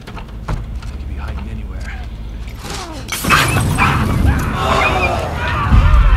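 Dogs bark and yip in The Last of Us Part 2 amid combat noise, the barking rising and growing louder toward the end over a busy game mix.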